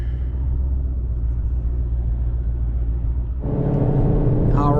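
A modified 5.7 Hemi R/T car drives with a low, steady engine rumble heard from inside, then the engine note grows louder and harsher as it picks up near the end, with a brief voice at the close.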